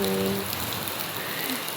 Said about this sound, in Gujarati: ફાઇનલી વરસાદ આવ્યો